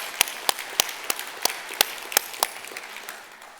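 A church congregation claps in a brief scattered burst of about ten distinct handclaps, fading out after a few seconds in a reverberant hall.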